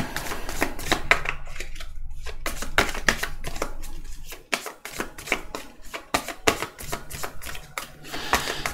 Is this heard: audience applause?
no